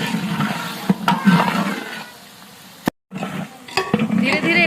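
Onions fry in a large pan for a big batch of chicken roast, sizzling loudly as a spoon stirs and scrapes in uneven bursts, broken by a short silent gap before the frying resumes.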